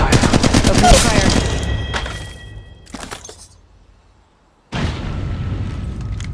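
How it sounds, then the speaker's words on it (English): Rapid automatic gunfire in the Apex Legends Mobile video game, a loud burst of close shots followed by a few scattered shots and a pause, then another sustained volley of fire. "Contact with hostile. Opening fire."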